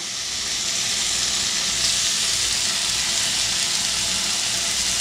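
Bacon strips frying in a pan, a steady loud sizzle and crackle that holds constant throughout, close up, with no talking.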